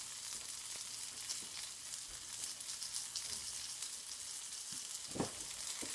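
A pork chop fries in a pan with a dense, even hiss of sizzling oil throughout, close and steady, broken by a few faint clicks and pops.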